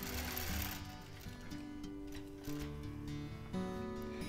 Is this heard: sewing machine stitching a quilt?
yes